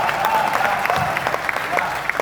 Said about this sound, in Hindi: आपकी तालियां बहुत कमजोर है